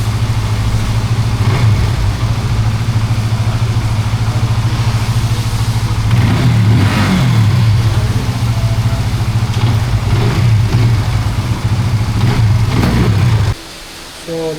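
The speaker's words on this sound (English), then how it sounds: "This bike is 150cc with liquid cooled engine, radiators and big headlight" Benelli 150cc liquid-cooled motorcycle engine idling steadily up close, then blipped through several revs in the middle before cutting off near the end.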